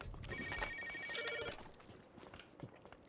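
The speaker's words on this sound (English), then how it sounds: "The phone is ringing." A telephone rings in a short electronic trill, repeating tones in two bursts, moderately quiet against faint background sounds and footsteps.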